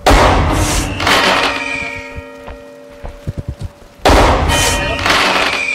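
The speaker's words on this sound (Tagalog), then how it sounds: "May fireworks fireworks sa labas." Fireworks burst outside in the Human Fall Flat video game, a run of sharp pops and thumps with bright crackling washes, under players talking.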